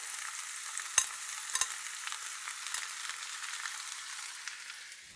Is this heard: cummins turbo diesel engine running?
no